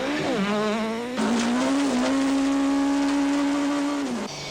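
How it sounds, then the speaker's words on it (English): A Class A8 Golf rally car with a damaged left front tyre rounds a corner on a stage of the Tour Natal 2002. The engine holds a loud, strained drone that dips and climbs as the car works through the bend, with some tyre scrub. "Have a look at Habich's damaged left front tyre as he rounds the corner, desperate to keep going until the end of the stage."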